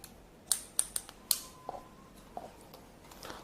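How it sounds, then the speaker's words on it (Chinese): Scissors trim hair along a guide line during a short haircut, making a series of crisp close snips. A few quick cuts come first, then softer scattered snips, in a quiet room with no talking. "跟随导线去修剪，这样呢两侧就会被你剪短。"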